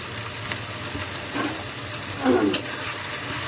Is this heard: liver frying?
yes